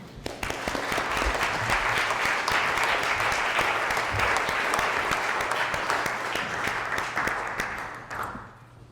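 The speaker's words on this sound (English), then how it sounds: "I think we should give her a rather big round of applause" Sustained applause from an audience at a civic gathering, a dense even wash of clapping held for several seconds before tapering off near the end.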